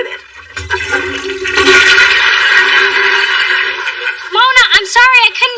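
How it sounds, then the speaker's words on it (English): A toilet flushes in a sitcom scene, a loud rushing swell of water lasting a few seconds before voices cut in over its tail. "I couldn't hear you over the toilet flushing."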